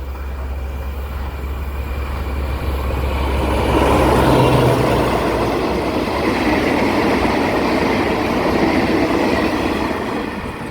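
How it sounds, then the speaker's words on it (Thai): Ordinary train 391, hauled by a Ford diesel locomotive on Thailand's eastern railway line, rumbling past close by, a loud broadband roar that swells toward the middle and holds steady with no talk. "เป็นขบวนรถธรรมดาที่ 391 นะครับ ต้นทางกรุงเทพปลายทางสถานีชุมทาง ฉะเชิงเซานะครับ"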